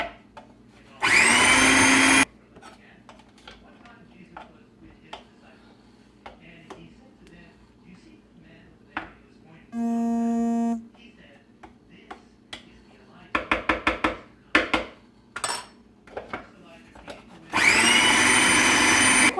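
A kitchen machine mashes cocoa powder with syrup in loud, steady bursts, one near the start and one at the end, with a shorter tonal whir and clattering knocks between them.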